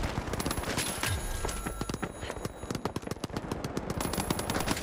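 A turret in the video game The Finals fires continuous rapid automatic gunfire, dense and steady throughout, with overlapping shots and no speech.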